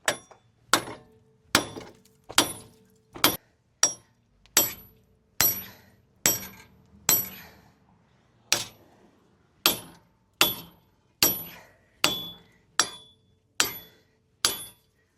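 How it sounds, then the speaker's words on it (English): A hammer strikes a stuck wheel hub on a car axle during a wheel bearing replacement, landing about eighteen sharp, ringing metallic blows in a steady rhythm, each decaying quickly before the next. "we're going to try to go ahead and just knock it off with a hammer"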